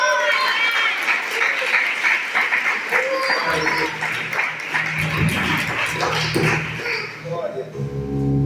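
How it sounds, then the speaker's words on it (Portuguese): Congregation applause during a sermon at an evangelical service, a busy patter of clapping hands that runs for several seconds while a voice and low rumbling sounds come in underneath. "Alguém pode dar uma salva de palmas por essa palavra maravilhosa?"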